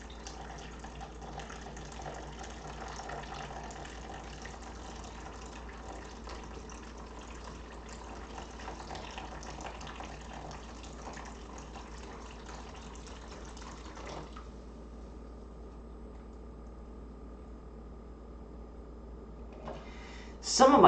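Water poured steadily onto sand and gravel behind a small barrier, a faint, even splashing that runs for about fourteen seconds and then stops.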